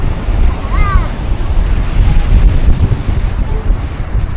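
Wind blowing at the seaside, gusty rumbling buffeting against the microphone with a constant low roar and faint surf, loud and close, with brief distant voices or chirps.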